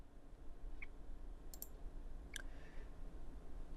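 Computer mouse clicks while working in Google Slides, a few isolated, sharp, close clicks spaced apart over a steady background hiss, with no talking.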